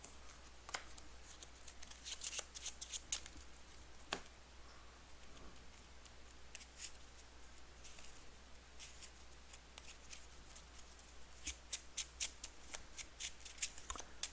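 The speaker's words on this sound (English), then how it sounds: "And I need to shuffle Stella up as well." A deck of game cards for the Arkham Horror card game being shuffled up close: bursts of crisp riffling and flicking clusters come and go over about fourteen seconds, with quieter handling gaps between them and no speech.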